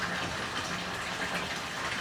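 Water gushes steadily and loudly from a pipe, reduced from 2 inches to 1 inch, into a 900-gallon aquarium, a dense, continuous rushing close by.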